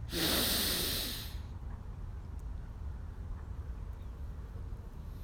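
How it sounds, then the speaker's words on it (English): Nasal breathing during a yoga practice: one loud, breathy hiss of air through the nose in the first second and a half, then the sound fades to a quiet room hush. "Inhale through the nose and release through the nose."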